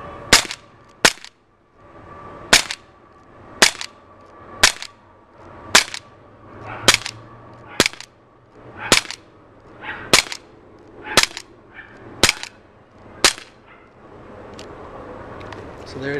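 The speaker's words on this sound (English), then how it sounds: "So I'm just going to empty the clip so you can see what it's like when all of the BBs are finished." Walther P38 BB pistol fired about a dozen times in steady succession until empty, each shot a sharp, loud crack at roughly one-second intervals, with quiet gaps between and a duller final pop.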